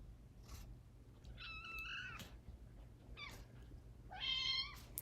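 Cats meowing indoors, several distinct mid-pitched meows spread across a few seconds, moderately near, with a steady low hum underneath and no talk.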